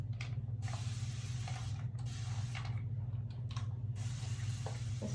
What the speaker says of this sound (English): I got this spray bottle from Sally's.